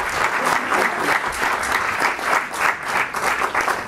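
Loud, steady applause from a live audience, continuous dense clapping that swells slightly in waves and runs close to the listener for the whole stretch.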